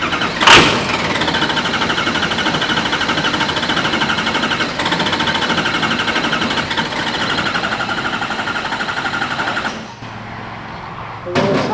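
A Ford 6.0 Power Stroke diesel with a fault cranks with a sharp start, runs roughly for several seconds as a loud, steady clatter, then cuts out abruptly and falls quiet.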